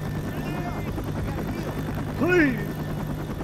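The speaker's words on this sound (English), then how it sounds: "As soon as I see that helicopter." A helicopter in the game Left 4 Dead makes a steady engine and rotor drone under game sounds, with a person speaking briefly over it.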